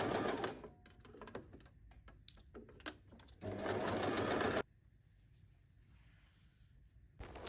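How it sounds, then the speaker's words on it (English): A sewing machine stitches the pinned seams of a fabric pencil case, with a short buzzing burst at the start and a second steady run of about a second, separated by quiet handling. "After you're done, sew the pinned areas."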